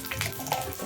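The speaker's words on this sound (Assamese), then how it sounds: "এতিয়া মই ইয়াত দিছোঁ তেজপাত আৰু শুকান জলকীয়া আৰু অলপ দিছোঁ ইয়াত পাঁচফোৰণ" Bay leaves, dried chili and panch phoron frying in hot oil while preparing a paneer curry, a soft close sizzle with faint crackle and a few brief splashy pops, no voices.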